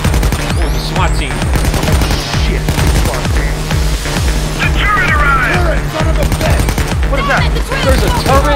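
Automated turret fire in the Payday 2 video game rattles out in rapid, sustained bursts of loud gunshots, with faint in-game voices behind it and a few short pauses between strings of shots.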